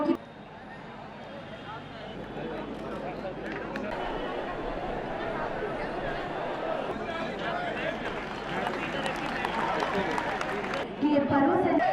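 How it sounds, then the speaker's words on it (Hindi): Crowd at a national T20 disability cricket tournament cheering and clapping for the winning North Zone team, a dense continuous roar of applause and chatter with an announcer's voice over it. "जोरदार तालियों को विजेता टीम नॉर्थ जोन के लिए"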